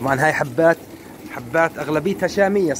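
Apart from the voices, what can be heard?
None of the usual background noises is heard.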